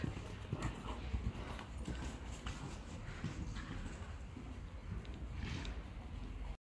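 Steady hoof clip-clops of a horse moving in an indoor riding arena, a continuous rhythmic thudding with some background noise.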